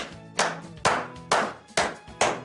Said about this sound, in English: you get the big clap from me